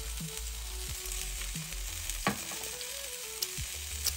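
A salted medium egg sizzles in a frying pan, an even hiss broken by scattered pops and a couple of small clicks, close by with no one talking.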